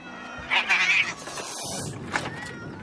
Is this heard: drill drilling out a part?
no